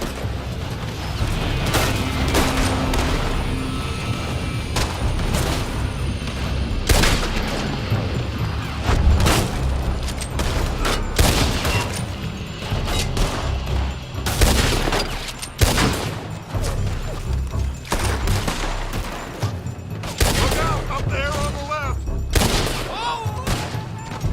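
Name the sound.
gunfire from a building in the video game Red Dead Redemption 2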